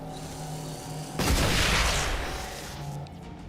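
A single heavy blast of gunfire aimed at a pylon in XCOM Chimera Squad, a loud broadband burst that booms and decays over about two seconds against a quiet humming background.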